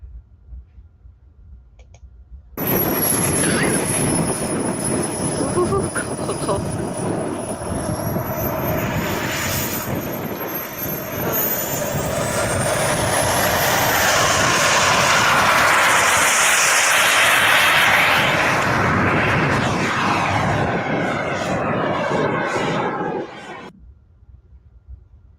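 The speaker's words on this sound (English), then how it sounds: "I love this jet. Looks neat, Victor." A model jet airplane flies overhead with a loud, steady whining turbine roar and high-pitched tone that swells and shifts for about twenty seconds before cutting away.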